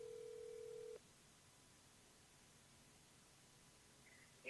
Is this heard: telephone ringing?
yes